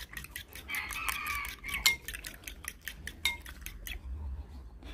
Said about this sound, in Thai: ตีไข่ค่ะ